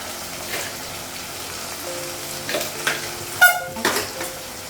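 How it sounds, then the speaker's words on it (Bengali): Ground spices such as cumin, coriander and salt fry in a pan in a home kitchen: a steady, close sizzle with a few clinks and scrapes of stirring, and no talk. "মশলাটা একটু ভেজে নেব"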